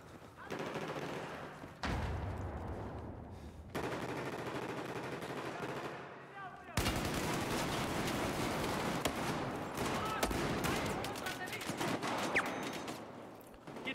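Sustained automatic gunfire in Battlefield 4 during a team deathmatch, including an AUG A3 rifle, with dense bursts and overlapping shots that stay loud throughout and cut abruptly between sections.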